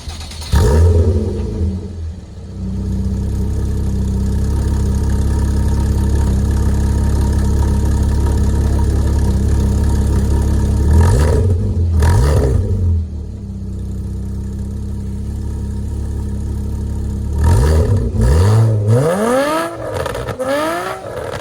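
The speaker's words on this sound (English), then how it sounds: "It is considered one of the best exhaust notes of the modern era, especially in the Cayman GTS or GT4." A Porsche Cayman engine idles with a deep, steady exhaust drone, broken by several sharp revs that rise and fall, loud and close.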